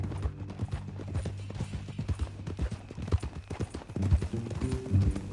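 Hooves of a horse in Red Dead Redemption 2 clip-clop at a steady walking pace, fairly close, mixed with soft tack and ambient game sounds and a brief low snort near the end.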